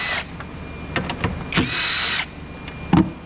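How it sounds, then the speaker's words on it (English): A power tool spins out 10mm bolts on the alternator of a Saturn Outlook. There are short, close whirring bursts and a few mechanical clicks and clunks, with no speech. "let's go ahead and get these 3 10mm bolts out of here"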